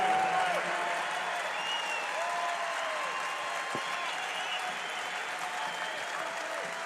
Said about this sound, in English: As he gets a standing walk-off here. Applause.